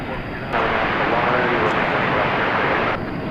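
Airplane engine roar at DFW Airport at night, a loud, steady broadband rumble that swells in and holds, with speech underneath.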